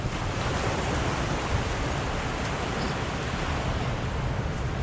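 Surf rolling onto Clearwater Beach, a steady broadband wash of waves with wind buffeting the microphone, continuous and fairly loud with no talking.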